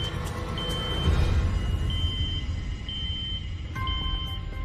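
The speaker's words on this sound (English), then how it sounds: "you hear what sounds to be a smoke alarm or a smoke detector that's now going off" A smoke detector gives a repeating high-pitched electronic alarm tone in steady bursts over a rumbling background, with a brief clatter near the end.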